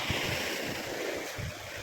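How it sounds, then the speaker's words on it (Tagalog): Big ocean waves roll in on the shore along the Dumaguete boulevard, a steady wash of surf with wind rumbling against the microphone and low thumps from the breakers, unbroken for under two seconds. "Malaki ang alon oh."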